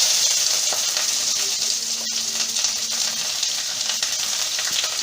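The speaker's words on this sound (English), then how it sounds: "Now I'm adding these sliced onion in this." Sliced onions hit hot oil with cumin seeds and fry in a loud, steady sizzle that holds without a break from start to end, with no voices over it.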